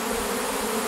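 A large honeybee swarm hanging from wood gives off a dense, steady buzz, close and continuous throughout, while the bees are gently handled by gloved hands.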